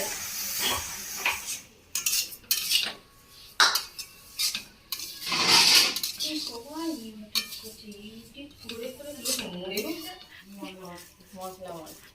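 A sweet mixture for laddus is stirred in a pot at home during a puja, with repeated scraping and clanking of a utensil against the metal. A person talks over the stirring through most of the clip.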